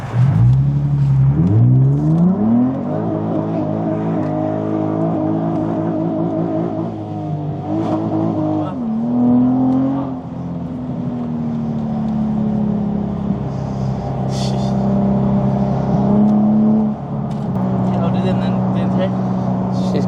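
Nissan 350Z engine revving hard and holding high revs with rising and falling pitch, loud and close, tyres spinning, with voices talking over it throughout.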